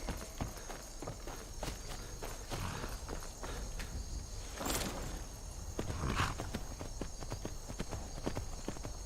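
Steady clip-clop of a video game horse's hooves walking at a regular pace, with a faint whinny partway through and a soft ambient background.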